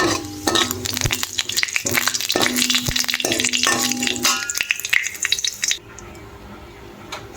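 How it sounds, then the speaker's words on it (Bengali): Ginger, dried red chilli and five-spice seeds fry in hot oil, a steady close sizzle broken by repeated scraping stirs and clinks of a spatula against the pan, then the frying drops to a soft hiss near the end. "তেল দিয়ে দিলাম। আদা, শুকনো লঙ্কা, 5 ফোড়ন দিয়েছি।"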